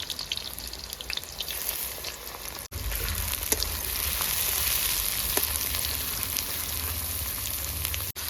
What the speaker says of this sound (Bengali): মাংসর সাথে লাল করব মানে পেঁয়াজটাও ভাজা হয়ে যাবে আর মাংসটাও